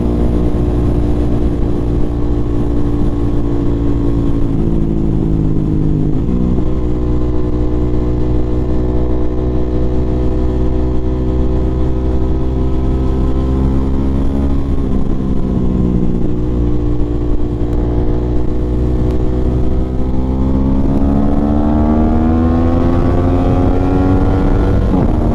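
A 2024 Aprilia RS660 motorcycle with a torquey engine, modified, runs on a track, its loud droning exhaust rising and falling in pitch through gear changes and acceleration, continuous and close.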